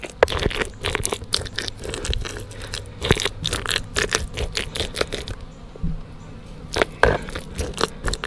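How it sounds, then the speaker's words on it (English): Honey cappings, the wax caps cut from comb during a honey harvest, get crushed in a rapid, irregular run of close, loud crunching, scraping and squelching bursts, with a brief quieter pause midway. "I'm going to take my cappings and crush them up."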